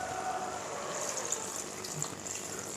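Water poured into a pot of chicken curry to make a gravy, a steady gushing stream heard close and fairly quiet for a few seconds, with no talking.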